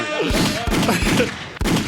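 Gunshot sound effects ring out in a rapid volley, several loud, close cracks with heavy low booms, the last shot after a brief gap.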